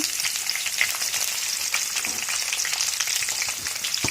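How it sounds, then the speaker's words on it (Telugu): Thinly sliced onion frying in a pan, a dense continuous sizzle with faint stirring scrapes, close and steady throughout. "ఇది కొంచెం మంచిగా ఫ్రై చేసుకోవాలా చూడండి ఒక్క ఉల్లిపాయ తీసుకున్నాను మంచిగా సన్నంగా కట్ చేసుకున్నాను"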